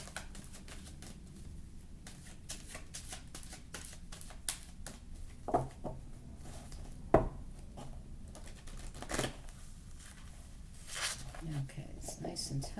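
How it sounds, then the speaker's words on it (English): Romance Angels oracle cards being shuffled by hand, soft irregular riffling and tapping bursts repeated over several seconds, quiet and close under a speaking voice. "And again, we'll shuffle again for our audience."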